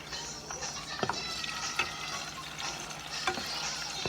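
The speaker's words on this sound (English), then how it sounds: "So I'm frying them" Food frying in a pan sets up a steady crackling sizzle, broken by a few sharp clicks and scrapes as it is stirred, fairly quiet and with no talking.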